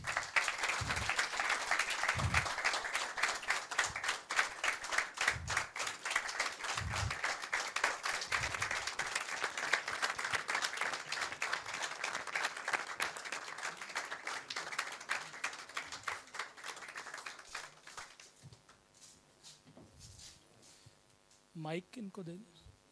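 An audience at a theatre acting-class showcase applauds loudly and continuously for most of the stretch, with a few rhythmic thumps underneath. The clapping fades toward the end as a voice begins speaking.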